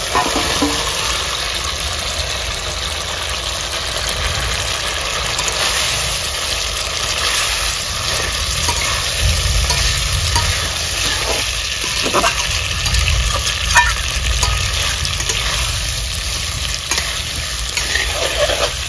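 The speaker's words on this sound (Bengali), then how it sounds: "আলু কষানো হয়ে গেছে" Potatoes frying in hot spiced oil with turmeric and salt, a loud continuous sizzle with repeated spoon stirring and scraping against the pan, close and unbroken for the whole stretch, no talking.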